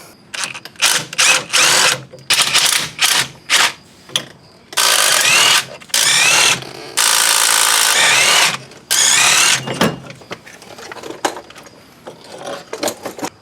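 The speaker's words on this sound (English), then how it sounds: "there's 6 bolts that hold this axle to that axle hub" A power tool on a GMT800 truck's front axle removes six 15mm bolts from the axle hub. It fires in repeated loud, close ratcheting bursts separated by short gaps, followed by quieter clicks and handling noise.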